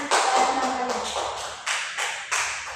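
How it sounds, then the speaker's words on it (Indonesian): Schoolchildren in a classroom applaud, first as a dense burst of overlapping claps, then as a few louder, sharply synchronized group claps spaced about half a second apart. "Oke, beri tepuk tangan."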